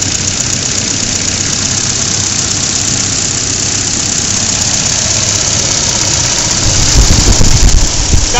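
A Volvo 740 four-cylinder engine idles loud and steady up close, a constant low mechanical drone with slight ticking, swelling briefly near the end.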